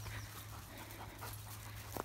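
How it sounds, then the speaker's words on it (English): Dogs out in an open field pant steadily, quiet and somewhat distant over soft outdoor background, with no one speaking. "So I'm out in the field with the dogs."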